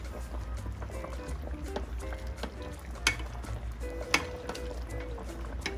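Pork asado sauce with brown sugar just added, stirred in a pot: a quiet, steady low simmering hum with faint liquid churning, soft scrapes and a couple of sharp clinks of the utensil against the pot.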